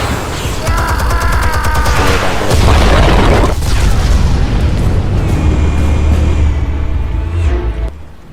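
A loud, deep explosion in the video game Batman: The Telltale Series, a heavy booming blast with rumbling debris and crackling that trails off over several seconds, with no talk.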